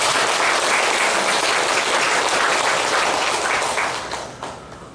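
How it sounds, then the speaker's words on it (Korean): A church congregation at a Sunday worship service claps in thanks, dense sustained applause filling the room before tapering off near the end. "하늘부모님과 천지인 참부모님께 감사의 박수를 올려주시면"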